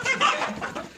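Desi hens sitting on their eggs give one short, close burst of clucking, loud and raspy, with no voices over it.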